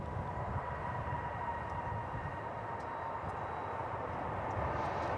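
Airbus A321 jet airliner at DFW Airport, a steady, fairly faint broadband roar of jet engines held throughout without breaks or voices.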